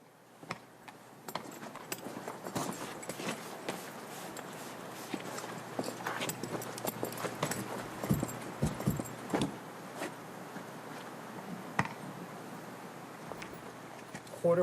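Horses' hooves clip-clop on a ranch raising quarter horses, a long run of sharp, irregular knocks at middle distance, with jingling and talking mixed in.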